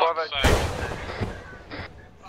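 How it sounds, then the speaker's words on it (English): A grenade blast in a video game, a sharp loud burst followed by a decaying rumble, with a few short clanks after and a voice briefly at the start. "That was meant to be a glow stick, not a grenade."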